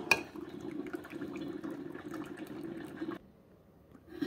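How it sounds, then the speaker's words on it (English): Vinegar trickling through a Mr. Coffee iced coffee maker during descaling, a steady close gurgling flow with faint bubbling that stops abruptly, leaving a quiet low hum. "So here the vinegar ran through the machine."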